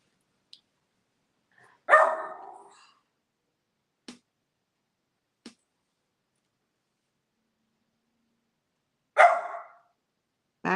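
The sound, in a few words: dog barking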